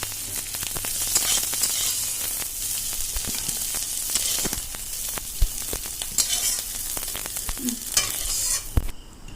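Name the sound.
snails frying in a pan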